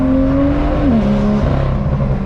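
Straight-piped BMW M2 engine accelerating hard on a country road, a loud raspy exhaust note rising in pitch, dipping briefly at a gear change, then pulling again.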